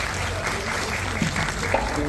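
An audience at a tribute music event claps for the musicians, a brief burst of steady crowd applause with some voices mixed in.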